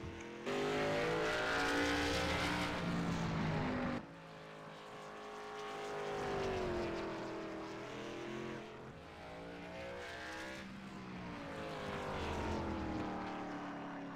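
A race car, the number 5 machine, laps the short oval at Langley, its engine swelling as it passes close, dropping off, then building again for another pass, with no talk over it.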